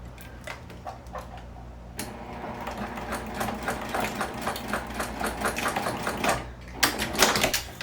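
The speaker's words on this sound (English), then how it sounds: "I'll go over here and just stitch this piece in place" A sewing machine stitches a sling bag piece in place, its rapid ticking needle rhythm running steadily and close over a low motor hum, with a brief pause before a final burst.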